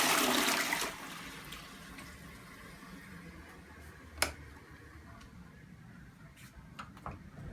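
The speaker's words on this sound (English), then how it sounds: "Here's a toilet, let's flush it." A hotel bathroom toilet flushes, a loud rushing burst at the start that drains away into a quieter, lingering trickle, with a few faint clicks and a sharp tap partway through.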